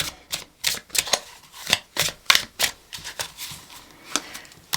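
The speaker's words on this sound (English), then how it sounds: "I need to shuffle and we need to bring in some more" Rapid crisp riffling and snapping of cards being shuffled, a string of sharp taps in an uneven rhythm, close by.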